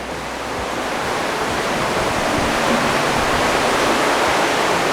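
Steady, dense rush of a river flowing through the Tytoona river cave, a continuous broadband roar that stays loud and even throughout with no voices over it.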